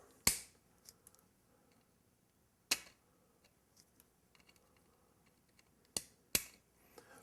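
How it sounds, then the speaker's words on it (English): Metal nippers snip the slightly long bent legs of a model railroad bridge: four sharp, isolated clicks spaced a few seconds apart, close and crisp in a quiet room with faint handling noises between cuts. "I'll use my nipper to trim them off just a bit"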